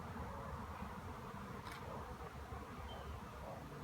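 A swarm of bees moving into a bait hive makes a faint, continuous buzzing hum that holds steady and close the whole time.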